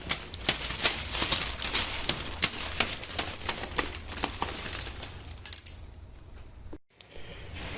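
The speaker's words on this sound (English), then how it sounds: "Once we got that plastic out of the way, you can pretty much open this." Plastic packaging on a mattress box being cut and pulled away, a dense run of crinkling and snipping clicks up close for several seconds that then quiets.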